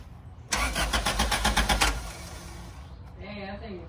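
A boosted Honda Del Sol engine cranks with a rapid rhythmic chug for about a second and a half, then catches and settles into a steady idle, heard close up before a voice speaks.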